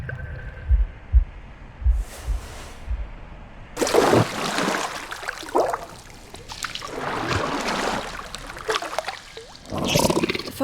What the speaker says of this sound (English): a deafening heartbeat.